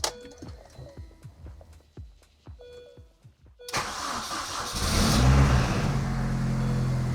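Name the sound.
2005 Mini Cooper S engine starting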